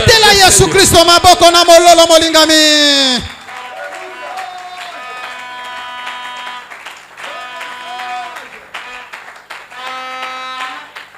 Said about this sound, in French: Si vous entendez ces choses, acclamez le Seigneur